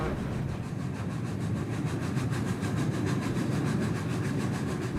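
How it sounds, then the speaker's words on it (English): Steam locomotive Tornado runs at speed, a dense continuous rumble with rapid rhythmic exhaust beats and rail clatter, steady and loud throughout. "Tornado's staccato exhaust beats reverberate across the city."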